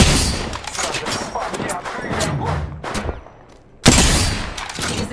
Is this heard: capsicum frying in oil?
no